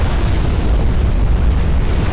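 A warship's ammunition cooks off in a naval battle game set in 1890s dreadnought-era combat, a loud, continuous roaring explosion dense with low rumble and crackle.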